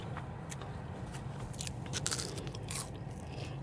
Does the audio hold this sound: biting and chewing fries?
yes